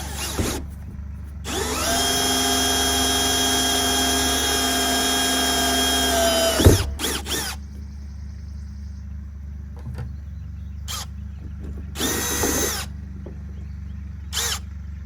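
A power drill whirs in a long, steady burst of several seconds, then stops; shorter drill bursts and clicks follow, close by, with no talking.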